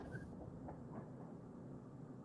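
Rumbling train on rails in a resource-management video game, a steady low running drone with soft rhythmic wheel thumps, continuous and fairly quiet throughout.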